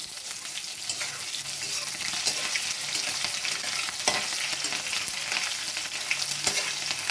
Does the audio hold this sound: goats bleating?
no